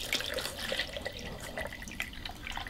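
Distilled water pours into a measuring cup up to the liter mark, a steady trickling fill with small splashes and drips, close and moderately quiet, and no one speaks.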